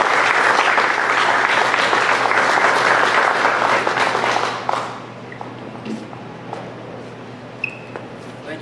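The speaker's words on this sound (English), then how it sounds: "So let's give Chris a round of applause." Loud audience applause at a university press conference introducing a new head baseball coach, dense clapping that fades out midway, leaving a quiet room with scattered small noises.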